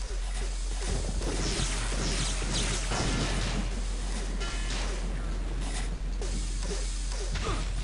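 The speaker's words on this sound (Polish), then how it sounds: "Jesteś mechaniczną żabą?" A mechanical frog enemy in the video game Daikatana creaks and grinds with repeated metallic ratcheting squeaks, dense and busy over a constant low hum, fairly close throughout.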